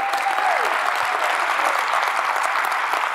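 A church congregation bursts into loud, sustained applause during a service, dense clapping with scattered cheers and whistles that holds steady throughout.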